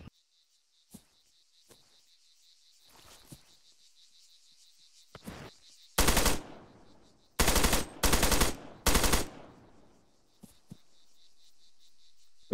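Machine gun fire in an Arma military game mission: several loud, sustained automatic bursts crackle in quick succession, with a few isolated shots and a steady insect-like chirping ambience between them, no talking.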